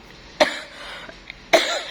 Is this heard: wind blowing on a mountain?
no